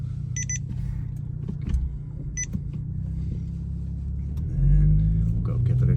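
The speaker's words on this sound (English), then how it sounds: "Go ahead and start the car." Audi B9 S4/S5 with launch control engine running steadily, a low continuous rumble that swells louder near the end as the revs rise, with faint electronic beeps early on.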